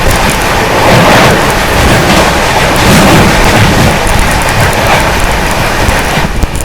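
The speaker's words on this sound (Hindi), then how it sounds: "सामने से आ रही है न्यू दिल्ली से चलकर वीरांगना लक्ष्मीबाई झांसी की ओर जाने वाली ताज एक्सप्रेस।" The Taj Express train roars past up close, a loud, continuous rumbling wash of wheels and carriages that holds steady throughout and eases slightly at the very end.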